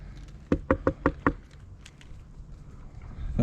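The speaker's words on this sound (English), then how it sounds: "Knock on wood." Five quick, sharp knocks rap on wood aboard a river fishing boat, evenly spaced and close, followed by quiet outdoor ambience and a faint rising rumble.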